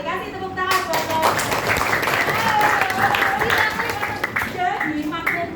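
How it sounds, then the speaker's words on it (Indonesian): Children in a primary classroom clap together for their teacher, a dense, loud patter of hands mixed with children's voices and shouts. "Kasih tepuk tangan buat saya."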